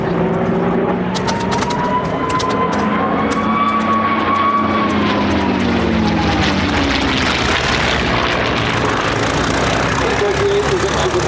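P-38 Lightning warbird at an airshow, its engines droning loud and steady throughout with a slowly shifting pitch as the plane passes, while a commentator talks over the sound.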